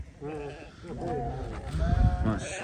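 Sheep in a sale pen bleat faintly in the background while someone speaks over them, with other voices and farmyard noise around.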